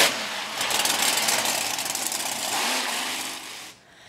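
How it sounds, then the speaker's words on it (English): Monster truck engines roar steadily at an outdoor truck show in Exhibition Park on a hot August weekend, a loud continuous rumble that drops away abruptly at the end. "Monster trucks roared through Exhibition Park this weekend."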